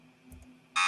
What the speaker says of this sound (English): The Buzzers are live.